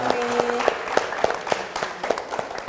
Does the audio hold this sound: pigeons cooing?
no